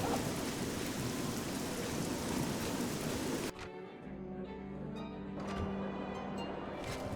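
Heavy rain and rolling thunder from a storm in the Oblivion video game, a dense steady downpour that cuts abruptly to a quieter indoor ambience with faint low rumbles and muffled rain outside.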